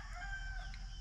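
Native chickens on a Filipino farm, a rooster crowing amid hens clucking, steady and fairly close with low background noise.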